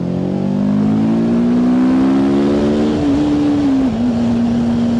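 A TVS Apache RTR 310 sport motorcycle pulls hard in third gear, its engine note climbing steadily in a loud, close drone, dipping briefly near the end as the throttle eases, then holding again, with rushing wind underneath.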